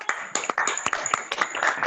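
Scattered hand claps from a small group of people greet a speaker at an online product presentation, sharp close claps in an uneven rhythm, with no talking.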